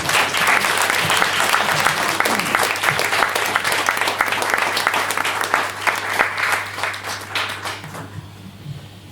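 Loud, sustained audience applause and clapping fill a comedy club in Mikkeli for about eight seconds, then fade away, with no talking over it.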